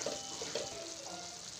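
Garam masala is stirred into methi masala cooking in a pan, giving a faint, steady sizzle with a few soft scraping stir strokes and no voices.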